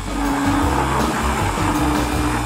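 A machine mixing lime ice cream with Skittles runs with a loud, steady motorized whir and low churning hum, uninterrupted and close, with no talk.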